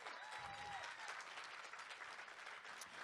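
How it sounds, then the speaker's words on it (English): Sustained audience applause fills a hall after an award presentation at a speeches event, a dense, steady wash of clapping with a brief whistle near the start and no talk over it. "Let's give her another round of applause"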